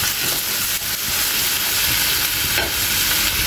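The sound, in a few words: frying chopped onions in a pan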